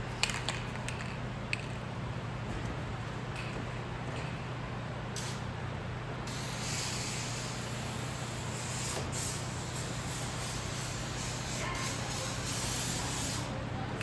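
Rust-Oleum Turbo spray can painting in steady horizontal passes, a continuous close aerosol hiss that swells and thins as the nozzle sweeps, with a low steady hum underneath and no talking.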